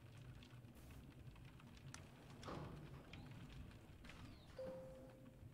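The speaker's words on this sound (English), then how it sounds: "I like the rain sounds." Gentle rain ambience in the stealth game Gunpoint, a soft, faint patter with scattered light ticks and taps throughout.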